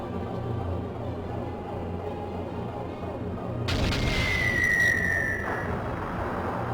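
A Moonstone Cannon fires in the Skies of Arcadia video game, a sudden loud boom midway that rumbles on with a sharp whistling tone over steady game music.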